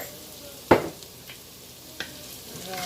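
Chicken noodle soup stirred in a pot, a low simmering hiss with a sharp utensil knock against the pot and a lighter clink later, close and otherwise quiet.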